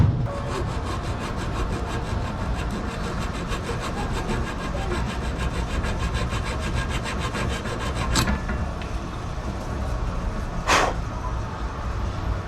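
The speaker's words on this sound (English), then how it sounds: "We're going to grind this one. Just put an angle on her." A part from a 42RE transmission valve body being ground to put an angle on it: a close, continuous abrasive rasp with quick repeated strokes early on and a couple of sharp scrapes near the end.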